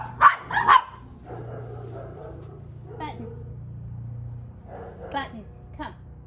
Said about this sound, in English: Didn't come, but she did stop barking.